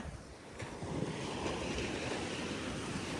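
Sea waves wash steadily against a shore during seaside fishing, a constant broadband rush with wind buffeting the microphone. The sound is moderately quiet, with no voices.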